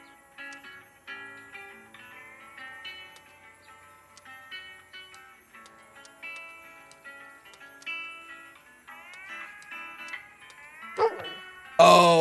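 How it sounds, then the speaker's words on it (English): A cartoon sheepdog in the video game Lost in Play barks amid light ticking game music, short yips and bow-wows at moderate volume, ending in a louder burst. "it's the fucking sheepdog from those Bugs Bunny cartoons"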